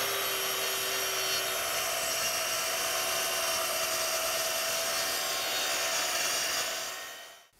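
A track saw running on the Kreg Adaptive Cutting System track cuts through a board with a steady, loud whine and rasp that holds evenly for about seven seconds before winding down at the end.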